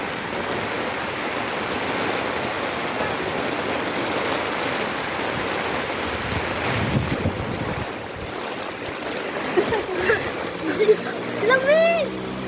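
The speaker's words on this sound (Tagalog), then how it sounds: "Ang lakas ng ulan." Heavy rain pours steadily outdoors in Cabuyao, Laguna as a child bathes in it, a broad hiss running throughout, with voices talking and exclaiming over it toward the end.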